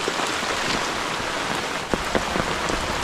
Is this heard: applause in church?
no